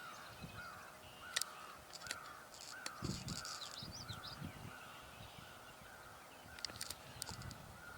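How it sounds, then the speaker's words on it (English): A crow caws a few times at a distance amid outdoor ambience, the calls faint and intermittent against steady background noise. "I'm hearing a crow."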